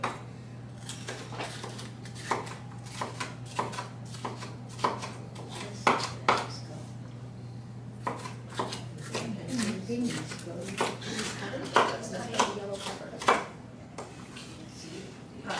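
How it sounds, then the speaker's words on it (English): Knife julienning peppers on a cutting board in a cooking demonstration, a quick run of sharp, irregular chopping taps over a steady low hum, fairly close and moderately loud. "julienne the peppers also. I've already julienned the red pepper."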